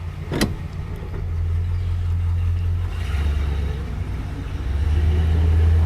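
A 1972 Chrysler New Yorker with a 440 V8 whines on its starter for a moment, then fires and settles into a steady, close idle rumble that rises slightly toward the end.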